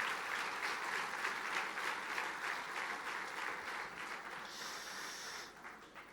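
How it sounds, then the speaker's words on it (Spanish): A church congregation gives a steady applause of praise to the Lord, a soft, continuous patter of many hands at a moderate distance, with a faint tone briefly rising near the end. "Fuerte ese aplauso de alabanza al Señor."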